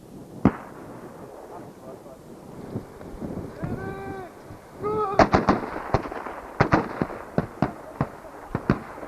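Sharp gunshots crack out one after another, the shots clustering toward the end with irregular spacing between them. Voices talk intermittently between the reports, and outdoor wind rumble runs underneath.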